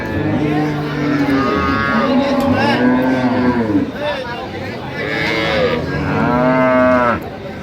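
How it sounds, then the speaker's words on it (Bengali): Cows and calves mooing repeatedly at a rural cattle market in Dinajpur, several loud, drawn-out calls close by in succession, with faint crowd chatter behind. "গাভী বাছুর আমরা দেখছিলাম এখানে"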